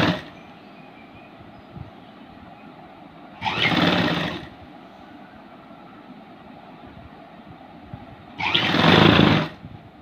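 A sewing machine stitches a blouse in two short, loud bursts a few seconds apart, each about a second long, with quiet room sound between them.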